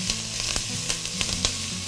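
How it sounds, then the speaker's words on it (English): Chopped onion sizzles steadily in a hot pan while being stirred, a close, continuous frying hiss broken by soft scraping clicks from the utensil, with no voices. "You want to constantly stir your onion so one side of it doesn't cook more than the other side, so they're all cooked evenly."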